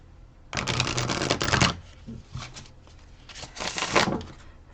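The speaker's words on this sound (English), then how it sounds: "It's a little bit of a stiff deck. It's hard for me to shuffle." Two bursts of shuffling a stiff tarot deck, a longer riffle followed by a shorter one after a brief pause, crisp and close.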